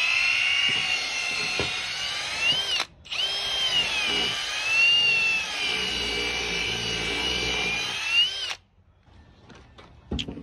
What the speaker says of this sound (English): we are going to be having to cut off 3 inches with a grinder